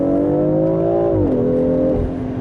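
A 2021 BMW X4M's twin-turbo S58 inline-six revs up and then drops off in pitch. The engine is close and loud, with no voices over it.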